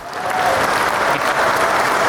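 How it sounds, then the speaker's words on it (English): Crowd applause swelling quickly into a loud, continuous wash of clapping that holds steady without voices. "Round of applause for Paulie."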